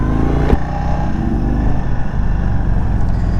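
A 2023 Indian Chief Bobber motorcycle under way, its V-twin engine a loud, close, steady rumble with a brief throttle blip near the start, wind noise mixed in and no voice.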